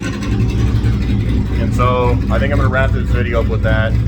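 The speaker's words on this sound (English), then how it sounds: "You can hear the Camaro idling in the background." A Chevrolet Camaro engine idles in the background as a low, steady rumble beneath someone speaking close by.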